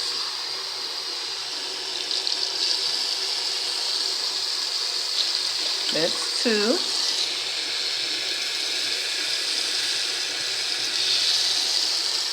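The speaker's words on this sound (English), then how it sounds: "So we put the 3 cups of water in there." Water pours steadily into a container of rice being prepped for a rice water treatment, a continuous close splashing flow while a voice speaks briefly over it.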